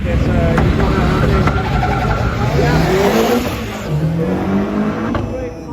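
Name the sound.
car launching off the start line and shifting gears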